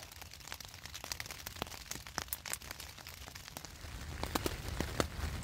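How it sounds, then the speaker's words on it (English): Night rain starting at a campsite, scattered raindrops tapping and crackling irregularly on a nearby surface, sharp close hits over a quiet low background, growing a little busier toward the end. "Rain just started a couple minutes ago."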